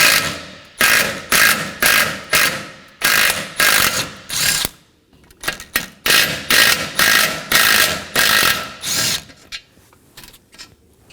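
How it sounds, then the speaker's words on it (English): A ratchet spins out two 10mm bolts from the bumper support of a 2015-2023 Nissan Maxima 3.5L V6, producing loud, close, rhythmic bursts of clicking strokes with a short pause between the two bolts. "on our bumper support, we're going to locate our two 10mm bolts."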